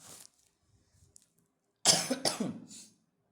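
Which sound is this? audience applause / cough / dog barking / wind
cough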